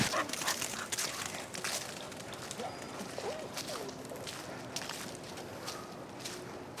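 A puppy moves around outdoors amid rustling and scuffling, with a few faint whimpers or soft vocal noises in a noisy, breezy setting.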